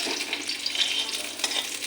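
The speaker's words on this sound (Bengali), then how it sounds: "দেখো আমি তিন পিস বেগুন ভাজা করেছি" Eggplant slices frying in a pan make a close, continuous crackling sizzle with small pops and stirring scrapes throughout a short stretch, with no voices.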